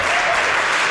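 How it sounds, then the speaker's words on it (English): A London wrestling crowd at a Moustache Mountain versus Swords of Essex match roars in a dense, steady wall of sound that could be chanting, loud and continuous for the full second, with no talk over it. "Let's also let this chant sink in."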